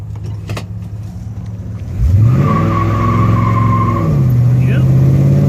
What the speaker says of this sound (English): Sounds like both tires broke loose.